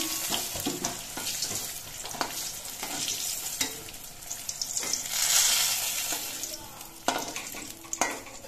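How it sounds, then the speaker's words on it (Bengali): Brinjal pieces frying in oil in a pan, a steady close sizzle with scattered crackles and spatula scrapes, a few sharper clinks near the end. "বেগুনগুলো আমি লালচে রং ধরিয়ে ভেজে নিয়েছি। এবার বেগুনগুলো আমি নামিয়ে নিচ্ছি।"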